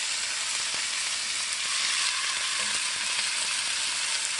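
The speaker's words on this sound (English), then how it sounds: "Put onions in here." Onions fry in a hot pan beside a chuck roast, a loud, steady sizzling hiss close up, with faint scrapes and ticks over the constant crackle.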